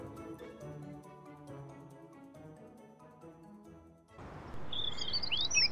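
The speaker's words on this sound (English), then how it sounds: "Birds attract Groovy's attention." Cartoon birds chirp and tweet in short high bursts near the end, entering after a stretch of music that cuts off, with the chirps sitting over a louder, busier background.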